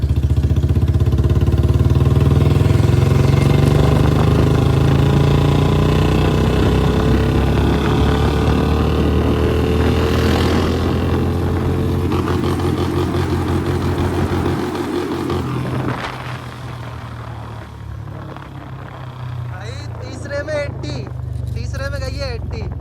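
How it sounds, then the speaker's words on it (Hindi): A Royal Enfield Bullet Standard 350 motorcycle pulls in third gear on an open road, its thumping single-cylinder engine rising steadily in pitch with loud wind rush, while the rider talks over it throughout. "अभी मैं तीसरा गियर लगाता हूँ, ये लगा लिया तीसरा। अब देखते हैं तीसरे में कितने जा रही है।"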